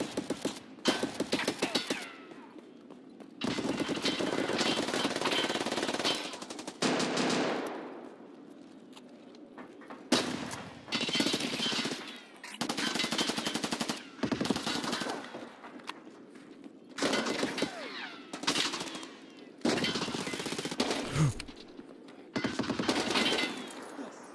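Repeated bursts of automatic gunfire in Escape from Tarkov, loud clusters of shots separated by short quiet gaps, recurring across the whole stretch with little talk.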